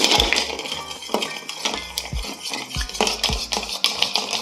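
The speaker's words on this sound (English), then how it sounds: "Add it to your mixing vessel. And then we're gonna give it a stir." Ice stirred in a mixing vessel for a Sazerac cocktail, giving repeated clinks and rattles with soft thuds. The sound is close, moderately loud and carries on steadily without talk.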